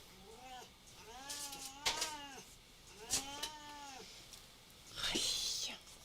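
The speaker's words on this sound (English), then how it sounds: "Anybody want a cat?" A cat meows several times, drawn-out and whiny with rising and falling pitch, close by but fairly quiet, with a breathy hiss-like cry at the end.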